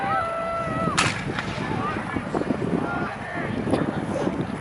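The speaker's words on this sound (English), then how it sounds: "It looks to me like the Union are firing by file." Civil War reenactors fire blank muskets by file at an outdoor battle display at a balloon fiesta. A sharp report sounds near the start and another follows later, set over steady wind noise and distant crowd murmur.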